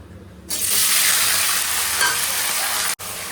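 Onion slices frying in hot oil for Bengali chicken kosha give a loud, steady sizzle that starts about half a second in and carries on, broken by a brief cut near the end, with no talking.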